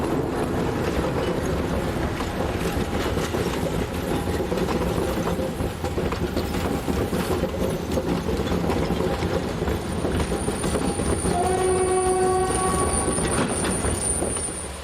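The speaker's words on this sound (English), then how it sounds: "Here a terminating train arrives close to the central station within the city itself." Narrow gauge train hauled by a Mk48 diesel, with basic wooden seat stock, arriving near the central station in Nyíregyháza, Hungary: a steady rolling rumble and clatter, then high squealing wheels as it slows, loud and near.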